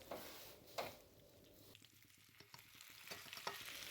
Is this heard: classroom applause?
no